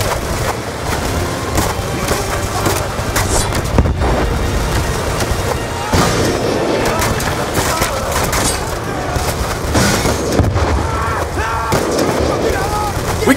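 Relentless gunfire and heavy explosions fill a Call of Duty: Black Ops 2 single-player battle, the mission Pyrrhic Victory, with dense, loud shooting throughout and voices mixed into the chaos.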